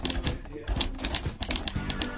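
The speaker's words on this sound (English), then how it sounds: "every line meticulously hand-typed using a vintage typewriter" A vintage typewriter being hand-typed for art: bursts of sharp, close key strikes in an uneven rapid rhythm, loud and clattering, with a voice talking faintly underneath.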